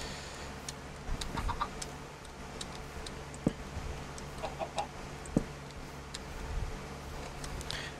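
Soft chicken clucks in a video game, scattered among light ticking and small clicks over a steady low hum, with no voices.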